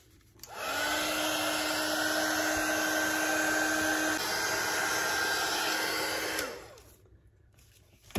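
A hair dryer blows on an altered playing card being made for a junk journal collage, running as a steady loud whir for about six seconds with a faint pitch shift midway, then switching off and winding down.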